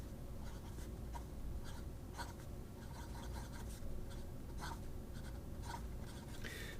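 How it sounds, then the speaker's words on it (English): A Peniter La Bellezza fountain pen with a flexible medium quill nib scratches across paper in short repeated strokes, a soft close rasp over a steady background hiss. "Does it write? Oh, it writes."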